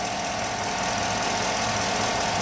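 A high-mileage Chevy 5.3L Vortec V8 idles steadily, a constant broadband mechanical rumble with fine ticking texture, close to the microphone and uninterrupted by voices.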